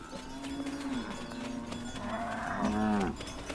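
A Dinka cattle herd of around 500 cows moos repeatedly, long low bellowing calls overlapping one another, with a louder nearby moo near the end over steady herd background.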